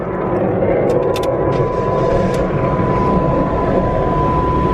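Car engine idling steadily right after starting, a constant close-up hum with a faint steady whine and a couple of brief clicks, with no talking.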